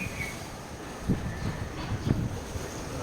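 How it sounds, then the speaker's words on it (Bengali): Outdoor wind blows steadily with soft rumbling gusts buffeting the microphone, a low continuous rush with a couple of brief stronger puffs. "ভালো লাগতেছে বাতাসটা, না?"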